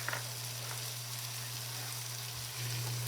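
Beef stew with tomato paste and flour sizzles steadily in a pot, a close, continuous frying hiss over a low hum, with no talking.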